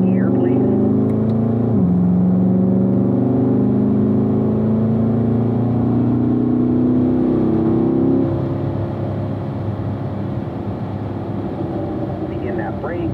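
A Corvette accelerates hard around a race track, its engine droning loudly and rising in pitch through the gears before shifting up to fifth and settling to a steadier roar, with an instructor talking over it.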